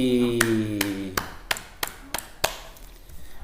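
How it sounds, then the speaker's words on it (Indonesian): About seven sharp, sparse claps sound at a slow, uneven pace after a classroom peer-teaching demonstration, while a steady humming tone fades away during the first second. "Iya, tepuk tangan untuk Mbak Ani."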